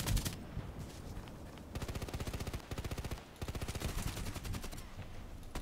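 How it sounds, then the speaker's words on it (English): Repeated sharp reports from a misaligned Mosin Nagant rifle, loud and close, firing in fast rhythmic bursts separated by short gaps. "Yeah, I can do three fail shots."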